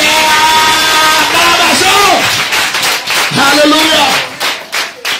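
A church congregation claps and cheers in praise of Jesus, with loud sustained shouting and singing voices blending into rhythmic clapping that turns choppier toward the end, close and filling the room.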